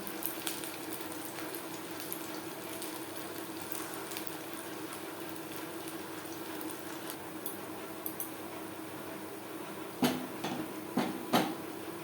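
Semolina gulab jamun balls frying in oil in a pan make a soft, steady sizzle at low volume, with a few sharp clinks near the end.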